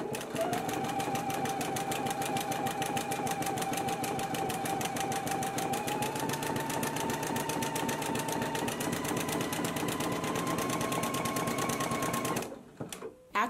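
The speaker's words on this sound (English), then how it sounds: "I'm gonna go ahead and do a zigzag stitch" Sewing machine zigzag stitching the side seams of a slip dress at a quarter-inch allowance, running steadily with a rapid even needle rhythm for about twelve seconds, close and alone before stopping abruptly.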